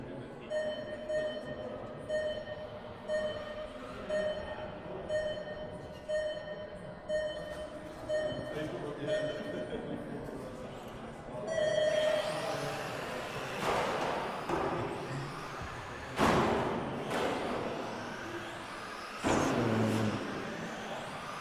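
Radio-controlled racing cars running around a club track at a race meeting, a steady mechanical drone rising and falling as cars pass, with sharper bursts and whines later on, under an announcer talking.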